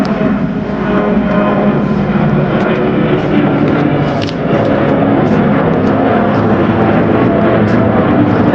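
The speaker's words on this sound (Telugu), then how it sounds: "ఇంకో ఫ్లైట్ వచ్చేస్తుంది" A loud, steady airplane engine roar over a farm in the Netherlands fills the air throughout, a broad rumbling drone with no voices.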